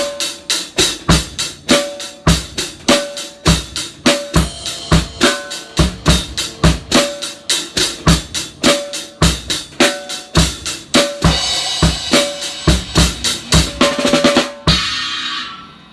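A drum kit plays a displaced 6/8 groove starting on the 2, evenly spaced hits with cymbal wash, steady and close, ending with a final crash that rings out.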